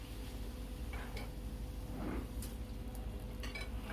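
Urad dal fritters fry in a pan with a quiet, steady sizzle, joined by a few light clinks and taps of a utensil against the pan, with no talk.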